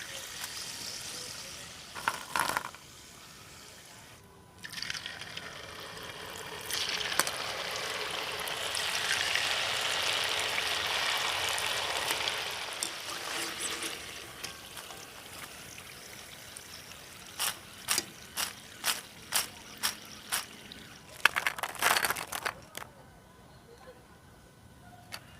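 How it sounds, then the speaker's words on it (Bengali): Crisp, dry crunching and rattling of freshly deep-fried flattened-rice (chira) kurkure snacks as they are handled, a steady rustle through the middle followed by a run of sharp, separate crackling clicks near the end. "কুরকুরের আওয়াজগুলো দেখছেন কতটা মচমচে হয়েছে"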